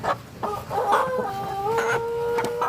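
Free-range village chickens cluck in short bursts close by, with a rooster's drawn-out crowing rising over them.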